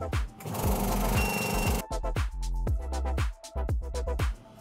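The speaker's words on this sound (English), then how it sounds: "So the vacuum chamber's compressed the liquid inside, and it's heated the top so it's nicely sealed." A chamber vacuum sealer pulls a vacuum on a bag of Rinomato Bitter Scuro infusion and heat-seals it, giving a steady loud pump drone broken by clunks and mechanical clicks.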